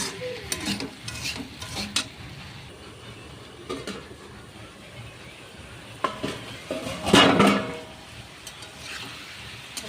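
Onion and potatoes fry in hot oil with a continuous close sizzle, punctuated by scraping stirs of a utensil against the pan and a louder burst of frying midway.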